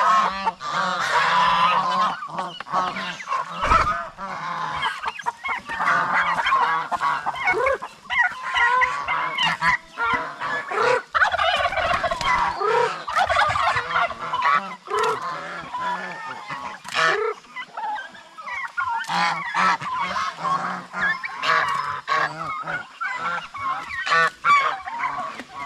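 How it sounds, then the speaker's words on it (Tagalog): A flock of geese let out onto grass to graze honk repeatedly and irregularly at close range, with calls overlapping throughout and occasional voices mixed in, on a farm that also keeps turkeys and cattle. "lumabas na yung mga gansa doon"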